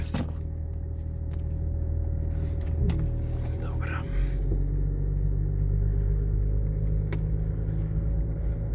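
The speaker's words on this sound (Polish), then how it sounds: "to jest klekot przyjemny, bo jest to 6 garów i to wrzędzie" A high-mileage Range Rover Vogue 3.0 diesel with a BMW-derived inline-six drives along, its engine producing a steady low clatter and rumble inside the cabin, with a few clicks and knocks heard.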